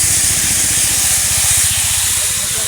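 Water hits a hot pan of seasoned food with salt and turmeric while amudi fish cooks with brinjal, bursting into a loud, steady, close hiss of steam and sizzle that holds throughout.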